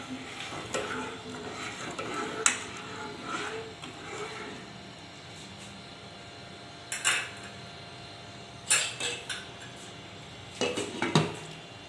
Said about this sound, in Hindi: चीनी को मिक्स कर लें।